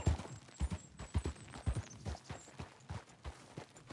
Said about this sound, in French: Ah, cheval, ok.